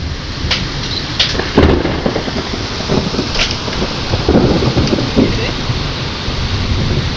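Heavy rain pours steadily while thunder rumbles and cracks overhead, close and loud, with no voices, at night on a houseboat in Alleppey, Kerala.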